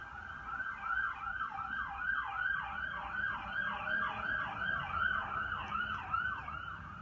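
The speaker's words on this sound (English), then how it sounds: "Obligatory pause for the siren." An emergency siren wails in a regular rising-and-falling cycle, holding at moderate distance for several seconds over a low hum of background traffic, with no one speaking.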